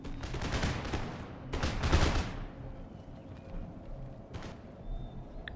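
Guns in Empire Total War let off two rattling musket volleys, then a lone distant shot, over a low rumbling battlefield background.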